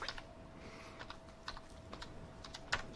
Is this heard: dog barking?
no